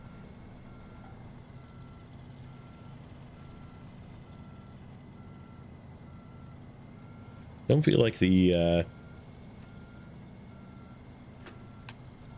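The reversing backup alarm on a truck in the video game Snowrunner gives one short, loud, close burst of beeping partway through, over a steady engine drone, with someone talking briefly.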